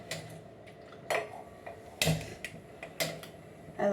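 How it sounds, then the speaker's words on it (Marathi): Sesame seeds roast in a pan over a low flame, with a spatula clinking and scraping against the metal in sharp, separate knocks roughly once a second over a quiet background. "आता मी तुम्हाला तीळ भाजून दाखवतो"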